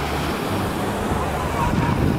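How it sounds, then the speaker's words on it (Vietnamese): Big ocean waves break and wash at a busy summer beach where people swim and sunbathe, a steady broadband roar of surf mixed with wind buffeting the microphone, continuous and fairly loud throughout. "Sóng lớn quá."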